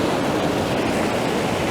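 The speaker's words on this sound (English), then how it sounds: "where these waves are coming in you couldn't get any milkier if it tried" Surf rolling in along the Causeway Coast of Ireland, a steady, close, loud wash of breaking waves and foaming water that fills the whole stretch without pause.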